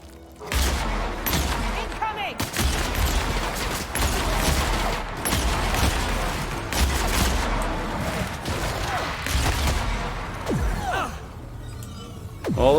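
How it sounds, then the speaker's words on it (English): Dense, continuous gunfire from a fight against brutes in The Outer Worlds, loud and close with rapid bursts and booms layered almost without pause. "go around shooting things like brutes in the face"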